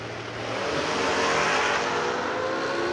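A dragster race car launches down a drag strip at a Friday grudge-style bracket event, a rising roar of engine and broadband noise that swells quickly and holds loud, heard a bit distant and with no talk over it.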